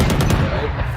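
Quick burst of gunshots in the tactical shooter Valorant, a few sharp cracks close together in the first half second, loud and close, over a steady game background.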